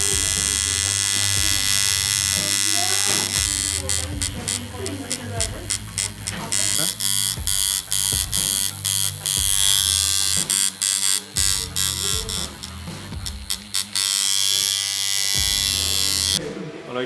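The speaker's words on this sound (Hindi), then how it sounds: "मशीन की आवाज़ पे, मशीन की फील के ऊपर" An inexpensive tattoo machine buzzes steadily up close in short bursts, stopping and starting repeatedly with a harsh electric hum.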